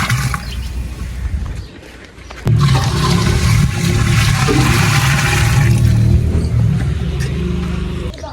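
A loud, steady rush of 15 kg of water gushing into a 12 kg degh cooking pot for chana pulao, starting after a short quieter moment and continuing strongly to the end.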